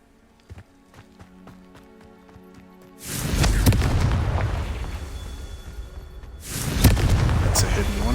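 Two booming fiery blasts from the Confringo spell in Hogwarts Legacy, each a sudden loud explosion followed by a rumbling tail, preceded by quiet footsteps and a voice casting the spell.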